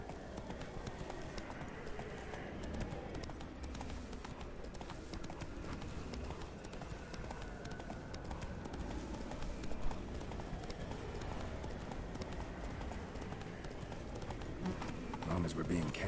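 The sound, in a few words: horse Roach galloping, hooves clip-clop, from The Witcher 3 video game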